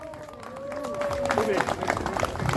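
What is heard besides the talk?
applause at a motorcycle club award ceremony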